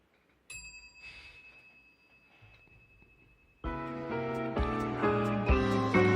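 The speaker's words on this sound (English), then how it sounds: "Just a little gong. Just a little bang. A little bell." A small bell and gong ring out with a single bright strike and a long fading tone, followed a few seconds later by loud music.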